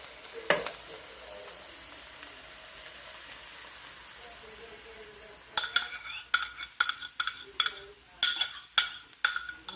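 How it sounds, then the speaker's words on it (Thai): Eggs poured into a pan of cooked mushrooms begin sizzling quietly, then a spatula scrapes and clacks against the pan in quick repeated strokes while frying continues underneath. "ตอนนี้เห็ดก็สุกแล้วนะคะ เราก็จะเซไข่ ใส่ลงไปเลยค่ะ"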